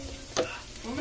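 Coconut milk goes into a small frying pan and sizzles briefly. A quick splash is followed by a soft crackle that swells slightly, close by and with no talk.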